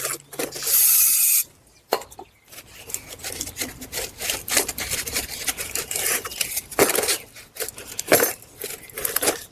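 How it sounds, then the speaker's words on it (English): Brake cleaner sprayed onto the rear brake parts of a GMC Acadia or Chevy Traverse, starting with a loud steady hiss, then a stretch of scrubbing and rubbing against the parts, close by with no talking. "Then take a little brake clean."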